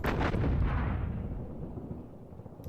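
Artillery fire in the Panzer Campaigns wargame: a loud, deep explosive boom with a rumbling tail that slowly fades over a few seconds, heard alone.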